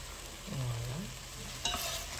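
Onions hit a hot pan of lardons and settle into a steady, close sizzle, with a brief scrape of a utensil partway through and a sharper clack near the end.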